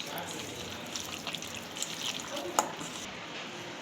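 Chicken is being mixed with masala, brown onions and squeezed lemon in a pot, producing soft wet squelching and shuffling with a small clink near the end, while someone talks over it.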